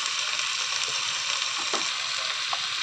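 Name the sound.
spices sizzling in hot oil (panch phoron tempering)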